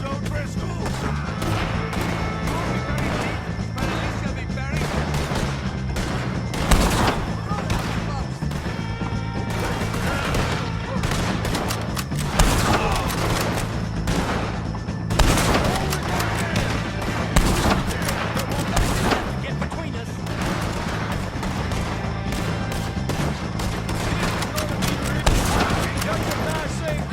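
Sustained gunfire in a Red Dead Redemption 2 shootout against O'Driscoll gang members, with repeated sharp shots and bursts over steady game music and ambience, mixed with shouted voices.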